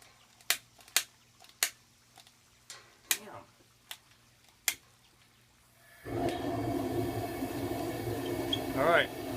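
A brewing kettle burner for a home beer boil lights after several sharp clicks from the igniter, then settles into a steady, loud roaring rush of flame that stays constant through to the end.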